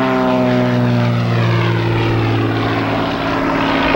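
A Shrike Commander propeller airplane flies loudly overhead at the 1987 Cleveland airshow, its steady droning engine and prop hum sustained without pause and no voices heard.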